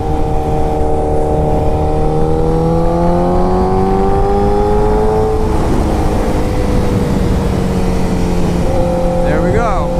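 A 2008 Honda CBR 1000RR motorcycle riding at speed on a highway, its engine a loud, steady drone with rising and falling pitch, wind rush underneath, and a voice talking over it.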